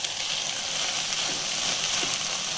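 Capsicum frying in a pan with tomato for chilli chicken, an even crackling sizzle heard close and continuous, no one speaking.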